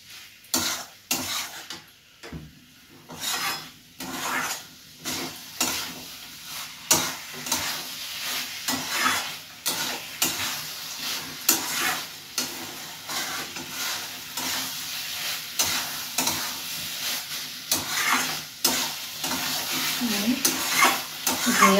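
Papaya curry with cumin and garam masala is stirred in a pan with a spoon, giving repeated scraping strokes over a soft, steady sizzle, and a voice speaks briefly at moments between the strokes.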